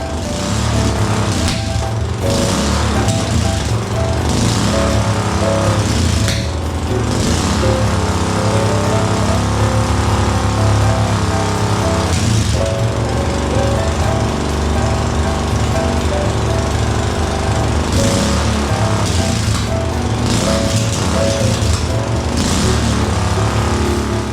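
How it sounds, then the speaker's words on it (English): A KTM mini bike engine runs loud and close for a long stretch, its exhaust droning steadily with rough rhythmic chatter and occasional pops as it comes off the throttle. "I was making a different exhaust tone upon deceleration. You can kind of hear it pop there"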